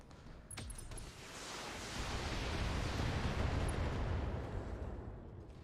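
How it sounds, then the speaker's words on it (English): An SRM ammunition explosion in BattleTech goes off as a deep rumbling blast that swells and sustains for several seconds, fairly quiet overall, with no talking. "SRM ammo explosion."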